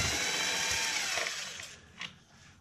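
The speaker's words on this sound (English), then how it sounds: "let's take these screws out and see what happens" A power drill backs screws out of a basement window frame: a close, high whirring spin that slows and fades over about two seconds, followed by a brief short burst.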